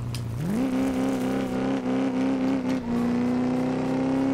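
A car engine in a drift racing video game drops a gear, and its steady drone jumps sharply upward in pitch within half a second. It then holds a loud, close, buzzing whine with brief dips and flutters, with no talking.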